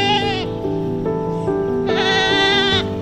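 Goats bleating loudly and close, several long wavering bleats one after another with brief gaps, tended by an elderly goat herder in a rural setting.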